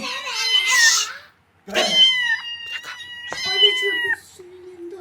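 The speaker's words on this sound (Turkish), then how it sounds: "Bu yavru kedi sesine benziyor." Several high, plaintive meows from newborn kittens in a garden, close and clear, separated by brief pauses, with a soft hushing voice near the start.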